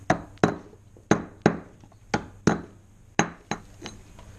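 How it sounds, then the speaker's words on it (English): A hammer taps repeatedly on a greasy 4WD wheel hub during bearing repacking, giving about eleven sharp metallic clinks in uneven pairs, close and loud with no talking. "Take a hammer you don't mind getting greasy."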